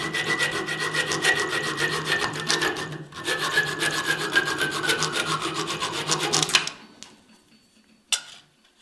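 Hand hacksaw cutting metal by hand: quick, steady rasping strokes in a regular back-and-forth rhythm, close and fairly loud, then stopping with a final brief scrape.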